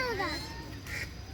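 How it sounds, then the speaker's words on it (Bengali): Ducks, big and small, quack in a quick run of descending calls near an empty market plaza, loud at first and then fading, with a faint voice and outdoor hum underneath. "এই যে হাঁস"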